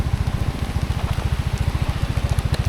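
Rain falling during a ride in the Philippines, heard as a steady patter over a loud, rapid rhythmic engine-like throb, close and continuous with no talking.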